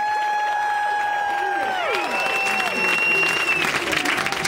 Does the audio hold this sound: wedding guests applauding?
yes